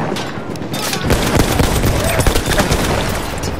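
Rapid, loud gunfire from a bipod-mounted weapon in Battlefield 1 on the Shadow of the Giant map, a sustained close barrage of overlapping shots with explosive booms underneath.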